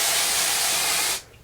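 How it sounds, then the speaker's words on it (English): Hair spray hisses from an aerosol can held well back from the hair, one steady burst lasting over a second before cutting off, loud and close with no talk. "And I'm going to spray."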